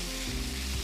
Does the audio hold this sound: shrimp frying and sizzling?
yes